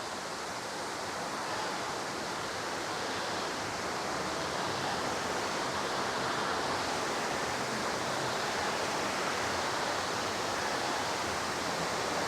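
Northrup Falls at high flow roars as a dense, constant rush of falling water, loud and close with no pauses and no voices.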